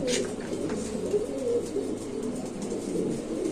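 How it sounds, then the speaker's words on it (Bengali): Pigeons at a bird sale give a continuous low, throaty cooing close by, a soft warbling murmur that runs the whole time over quiet room noise. "আমরা একটু নিচে ছেড়ে দেখাচ্ছি আপনাদের কবুতরটা"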